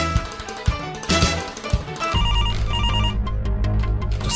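A telephone rings loudly and continuously with a bright electronic ringtone, its repeating tones steady and close, with no talk over it.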